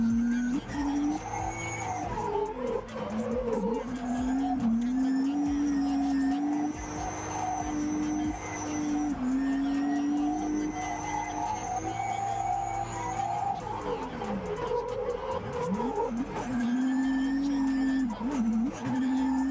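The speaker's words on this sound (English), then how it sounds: "Let's go ahead and take a listen to Tyler Mayer's car while he takes a lap" Drift car taking a lap at a drift event, engine howling loud and steady with rising and falling revs as it shifts and slides, tires squealing at moments.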